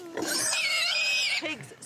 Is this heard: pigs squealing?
yes